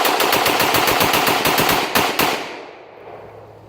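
A short-barreled Kriss Vector fired as a rapid full-magazine dump, a loud, close stream of evenly spaced shots that ends abruptly with a few final cracks and a brief fade.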